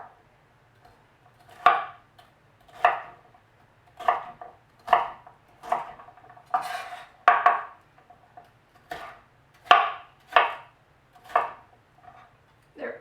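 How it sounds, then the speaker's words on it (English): A knife chops peppers into small pieces on a cutting board, about a dozen crisp, close knocks spaced irregularly with short quiet gaps between them. "we just chop them into small pieces, not too small"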